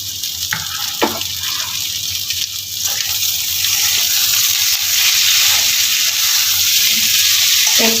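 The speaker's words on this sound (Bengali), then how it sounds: "মিনিট দুয়েক আমি একটু ভাজা করে নেব মিট গাজরটার সঙ্গে আলুটা কেটে রাখা টমেটোগুলো দিয়ে দিচ্ছি" Beetroot, carrot, potato, tomato and four slit green chillies fry in a pan with a continuous hissing sizzle that grows slightly louder and denser after a couple of soft knocks near the start.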